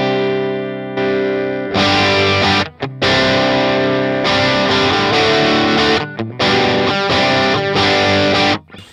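Electric guitar played on its bridge pickup through a Line 6 POD Go, with loud distorted chords and riffs in several bursts separated by brief stops.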